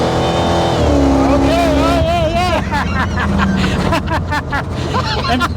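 A 1958 Corvette engine runs at half throttle, a loud, steady rumble that rises slightly and holds throughout, with people talking over it.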